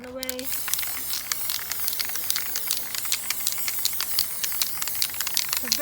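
A spray paint can hisses in rapid, close, repeated bursts, with a voice heard briefly at the start and end.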